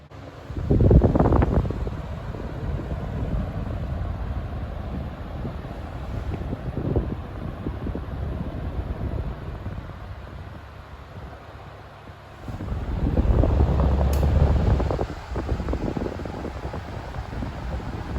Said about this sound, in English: It's only a 2-speed fan though, like a 10 and 12 inch.